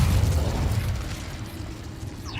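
An Incendio fire spell in Hogwarts Legacy lets out a rushing, roaring whoosh of flame with a deep rumbling body that fades slightly over a couple of seconds.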